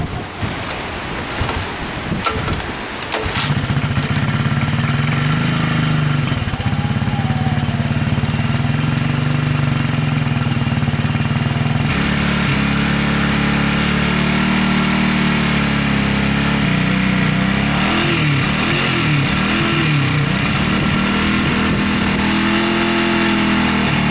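Engine of a 1985 200S, running cold after carburetor work, catching after a few rough tries then idling loudly and steadily, with wavering revs near the end.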